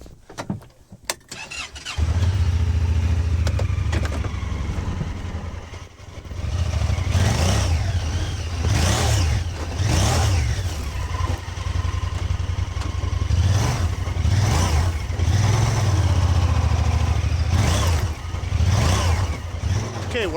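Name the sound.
tractor engine revving and wheels spinning in a field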